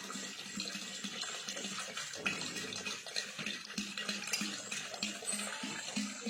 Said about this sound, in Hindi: अभी हम डालेंगे इसके अंदर गंगा जल।